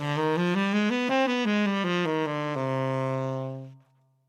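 A single melodic instrument runs quickly up and down C harmonic minor scale modes over a minor ii-V in a jazz setting, a steady stream of distinct notes ending on a long held tone that fades out.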